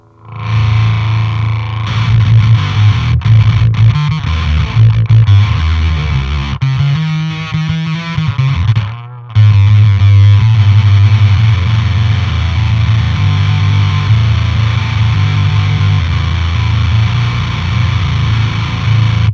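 Heavily overdriven, voltage-starved guitar distortion from an Otto Audio pedal, gritty, sputtering and gated, loud and sustained, with a brief dropout partway through before the thick tone returns.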